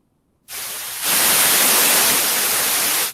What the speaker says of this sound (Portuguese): mas é porque é o ruído branco